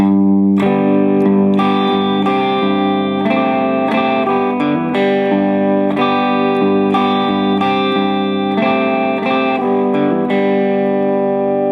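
Electric guitar playing a lick from a song, ending in a hammer-on, with a steady run of picked notes sounding alone, sustained and close throughout.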